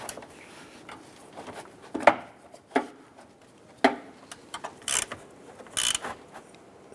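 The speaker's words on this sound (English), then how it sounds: "Let's go ahead and tighten down our upper bolt next." A ratchet tightens a bolt on a 2011-2018 Ram 1500 headlight support bracket, reaching through the fender liner, giving close, irregular clicks and short ratcheting bursts with brief metallic scrapes and no speech.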